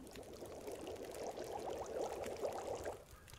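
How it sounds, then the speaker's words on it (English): Water boiling in a pot in the survival game The Long Dark, a steady soft bubbling and churning hiss that holds at a low, even level throughout. "Boiling some water"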